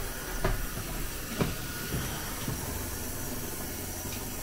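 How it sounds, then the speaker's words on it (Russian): Motorcycle coolant boiling over into the expansion tank, a steady hissing, bubbling wash of sound with a few faint gurgling pops, close and continuous. "Кипит в расширительный бачок."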